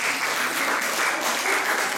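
Congregation applause during a church sermon, a steady, even wash of clapping from many hands, moderately loud and continuous with no voices over it.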